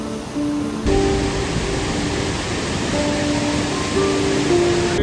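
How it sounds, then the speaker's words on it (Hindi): Loud, roaring torrent of the Sahastradhara waterfall and flooded river after a cloudburst near Dehradun, a dense unbroken wall of rushing water with faint tonal whines riding over it. "सामने वो सहस्त्रधारा वाटरफॉल है और ये पूरी रौद्र रूप में नदी है"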